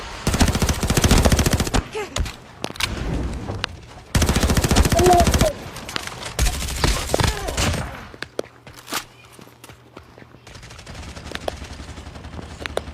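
Bursts of rapid automatic gunfire in Call of Duty: Mobile battle royale, loud and close, broken by short pauses with scattered single shots and thuds in between.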